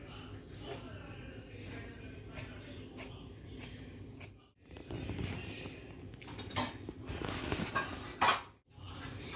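A knife scores raw chicken pieces, making light scraping and tapping clicks on a board, close by and partly under a speaking voice.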